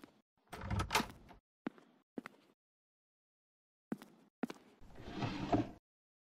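A video game door opens in a series of close, separate clunks and knocks, ending in a longer sliding, scraping rumble, with stretches of silence in between.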